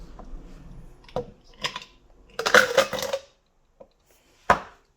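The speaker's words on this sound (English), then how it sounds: "I have a blender cup right here. I'm going to pour ice," Ice is poured into a blender cup for a virgin pina colada, giving a few scattered clinks, then a dense rattling clatter of cubes, and a final sharp knock, close and alone.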